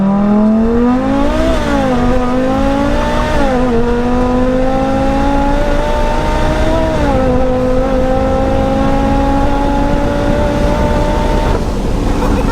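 Loud in-cabin drone of a 1200hp Audi TT RS accelerating at high speed, engine pitch climbing steadily with brief dips at each gear change.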